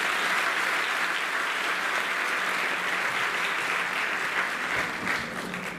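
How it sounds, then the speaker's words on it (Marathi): A school audience applauding teachers, a dense, steady burst of many hands clapping at close range that fades slightly toward the end. "पाटील सरांकरता तुमच्या शिक्षकांकरता एक जोरदार टाळ्या वाजवा"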